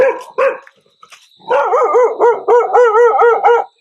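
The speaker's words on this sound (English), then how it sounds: "this dog's only bark." Dog barking loudly and close by, a couple of sharp barks followed by a burst of rapid, repeated barks and yips, with no other sound over them.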